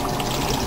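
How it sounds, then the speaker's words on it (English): Fresh water pours into an emptied commercial fryer pot as it is rinsed, a steady close splashing rush across the brief moment. "we need to rinse the pot with some fresh water"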